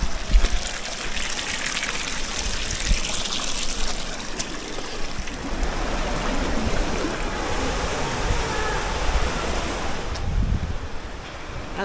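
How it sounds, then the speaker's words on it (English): Rushing water of a waterfall pouring over rocks along an off-road trail, a loud continuous roar close by, mixed with gusts of wind. "Waterfall."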